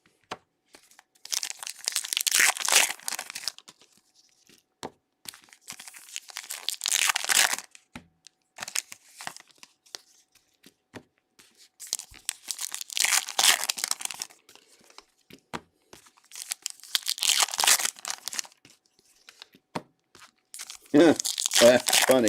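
Someone tears open Topps Heritage baseball card packs, crinkling and ripping foil wrappers in several bursts of crackle separated by quiet gaps, close to the microphone, with a person talking in between.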